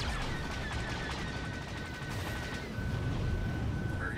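A gunship's guns firing in Star Wars: The Old Republic space combat, heard as a steady, fairly faint rattle of fire under a continuous engine-like drone with a high electronic tone.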